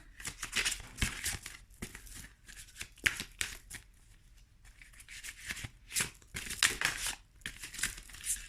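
A tarot card pulled from a deck and handled, with soft papery crinkles, rustles and sliding flicks in irregular bursts, close and quiet, and no voice over them.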